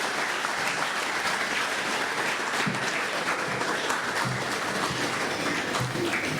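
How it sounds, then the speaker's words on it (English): An audience at a Pacific polytechnic graduation ceremony applauds the graduates, with the Prime Minister present as chief guest. The clapping is dense, even and sustained from start to finish, with no voices above it. "Let us put our hands together in a warm round of applause for their achievements."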